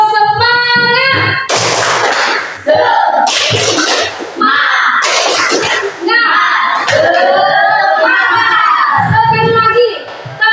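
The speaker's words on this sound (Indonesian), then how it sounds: "Coba kita tepuk semangat dulu. Oke, tepuk semangat." Children at SDN Bangkong elementary school perform tepuk semangat, a rhythmic spirit clap, with loud chanted voices alternating with sharp bursts of group clapping, close and energetic.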